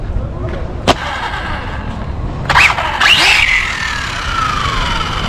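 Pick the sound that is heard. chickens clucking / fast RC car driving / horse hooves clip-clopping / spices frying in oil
fast RC car driving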